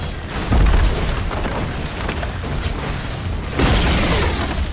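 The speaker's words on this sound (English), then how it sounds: "Radiant's bottom tower is under attack." Heavy booms hit a tower in a Dota 2 match, two deep impacts several seconds apart over a constant loud battle din of clashing effects.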